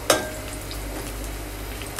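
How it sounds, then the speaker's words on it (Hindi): Onions frying in a pan while being stirred, a steady low sizzle with a sharp scrape or clink near the start and another at the end, no voices. "हमारा प्याज जो है हम इसको थोड़ा सा हिला लेंगे"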